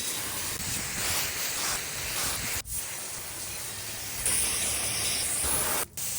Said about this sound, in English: Now the bike will be rinsed off completely.